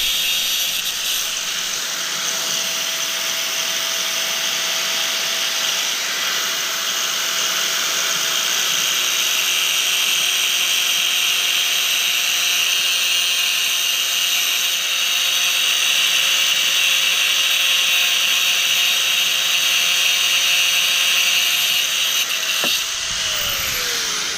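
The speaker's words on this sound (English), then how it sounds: "I think that's the last time we're going to use the grinder on this video" An angle grinder runs steadily and loudly on a historical bike build, a sustained high whine holding for over twenty seconds before cutting off near the end.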